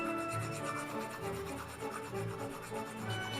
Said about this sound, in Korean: 줄을 이용해서 면을 평평하게 갈아줍니다